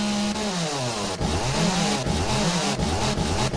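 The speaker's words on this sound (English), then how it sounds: "Are you playing with the chainsaw?" A chainsaw in the video game 7 Days to Die runs loud and close, its engine revving up and down in repeated rising and falling whines.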